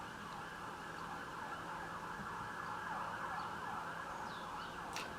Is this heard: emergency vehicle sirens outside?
yes